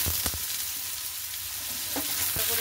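Potatoes hit hot oil with panch phoron and sizzle loudly and continuously, a dense frying hiss with a few clinks of stirring.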